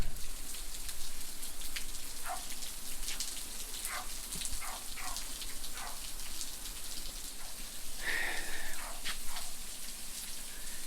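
Rain falls close by over an open hay field, a steady patter and hiss of drops with a few faint distant animal sounds underneath.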